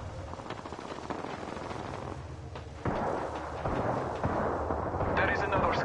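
Video game gunfire, sustained and dense, with booming artillery-like shots and heavier blasts that swell louder partway through, while dialogue runs over the top.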